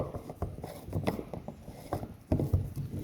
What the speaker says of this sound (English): This is the piece that's supposed to go into it. It screws in.